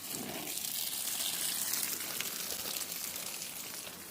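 Water poured onto potted garden plants, a close, continuous splashing gush that runs steadily for several seconds with a soft trickle and patter as it soaks in.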